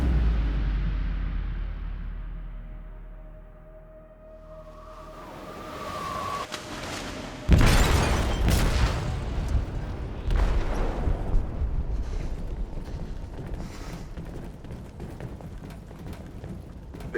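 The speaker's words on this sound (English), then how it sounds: "They detonated an explosive in the hold. The ship is sinking, sir." A massive explosion tears through a ship's hold in Detroit: Become Human, a sudden loud blast after a quieter rumbling buildup, followed by sustained roaring debris and crashing noise.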